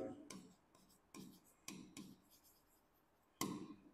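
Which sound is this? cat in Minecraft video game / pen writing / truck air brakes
pen writing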